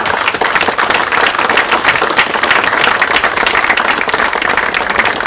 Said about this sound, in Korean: 다 같이 용기를 내시라고 박수 한번 부탁드리겠습니다